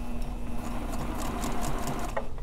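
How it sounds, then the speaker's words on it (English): A sewing machine runs steadily, sewing a straight seam down a piece of fabric with a continuous close mechanical whir and no speech. "now I'm going to sew straight down this thing"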